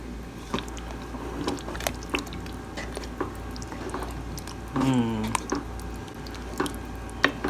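Ground meat and tomato sauce being stirred together in a large pan for lasagna, giving quiet wet squishing and scraping with a few soft clicks and a brief louder smear, close by.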